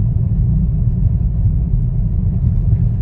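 A 2023 Hyundai Grand i10 Nios Sportz with a 1.2-litre AMT picking up speed gently in second gear, a steady low engine rumble and road drone heard from inside the cabin, with no talk over it.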